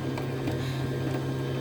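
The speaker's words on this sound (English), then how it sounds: "the sewing machine's about to go, so I apologize." A running sewing machine gives off a steady mechanical whir with a low hum and quick rhythmic ticking, close and moderately loud.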